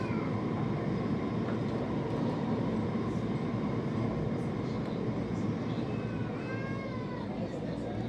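A Singapore MRT train runs with a steady, loud rumble and rolling hum throughout, heard from inside the carriage, with faint squeals toward the end and voices murmuring underneath.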